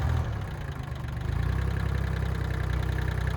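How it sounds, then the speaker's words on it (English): A tractor engine idles and chugs steadily with a low, even throb, close by, on a farm during a slow driving lesson. "giving Anne her first driving lesson on the tractor."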